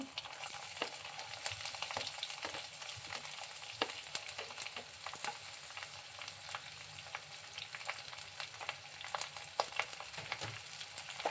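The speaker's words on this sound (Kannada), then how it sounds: "ಈರುಳ್ಳಿನೂ ಅಷ್ಟೇ ಗೋಲ್ಡನ್ ಬ್ರೌನ್ ಆಗೋವರೆಗೂ ಫ್ರೈ ಮಾಡ್ಕೊಳ್ಳಿ." Onions frying in a pan until golden brown, a continuous faint sizzle and crackle with scattered sharp pops, steady throughout with no talking.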